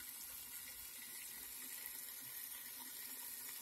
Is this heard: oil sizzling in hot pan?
yes